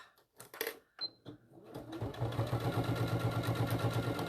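A sewing machine stitches a small fabric bag at a long stitch length, starting with a few handling clicks and bumps, then a steady close mechanical whirr with rapid needle beats.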